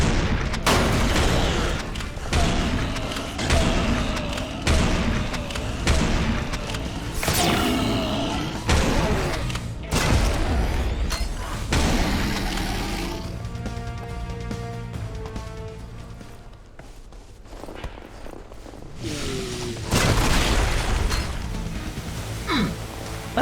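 A pump-action shotgun with an attached grenade launcher fires repeatedly in Serious Sam: Siberian Mayhem, loud booming blasts and explosions in rapid irregular bursts amid game combat noise, with a quieter stretch midway before the firing resumes.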